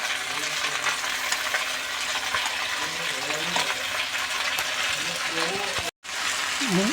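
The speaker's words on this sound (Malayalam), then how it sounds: "ചക്ക നമ്മൾ നെയ്യിൻ്റെ അകത്തേക്ക് മുഴുവനും ഇട്ട് കഴിഞ്ഞു. അതുകൊണ്ട് ഒന്നിങ്ങനെ ഇളക്കി കൊടുക്കാം." Jackfruit being stirred and fried in ghee in a pan, a steady sizzle with scraping stirring strokes throughout, a brief cut near the end, faint talk underneath.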